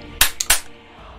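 Three sharp gunshot effects crack in quick succession in a Filipino horror audio story, each a loud, brief burst followed by a short decay into quiet.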